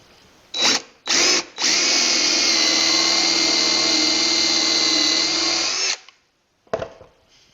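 A power drill drives 3-inch torque screws into wood while building a tool box for a pickup bed: two short whirring bursts, then one long steady run of about four seconds, close and loud, with no talk.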